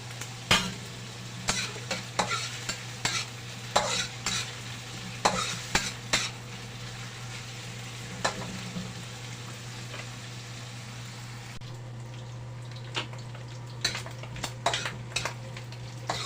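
Pork fat sizzling in a pan for ginataang gabi, with a spoon or spatula stirring it in repeated scraping clacks over a steady low frying hiss, close and moderately quiet.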